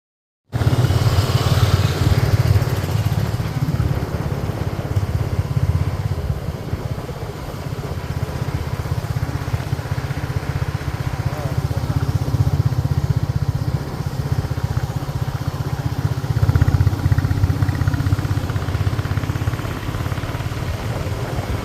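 A motorcycle engine drones steadily on a long road ride, loud and close, with wind rush and slight rises and dips in revs; no voices.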